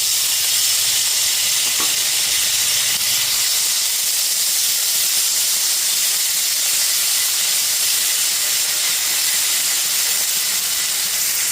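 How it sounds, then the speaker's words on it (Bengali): Chopped tomato sizzling in a pan over a low-to-medium gas flame, heard as a steady, loud, close hiss while it is stirred. One faint knock comes early on, and no one speaks. "টমেটোটা দিয়ে দেওয়ার পর গ্যাসের ফ্লেমটা লো টু মিডিয়ামে রেখে টমেটোটাকে নাড়াচাড়া করে বেশ অনেকটাই নরম করে নিয়েছি"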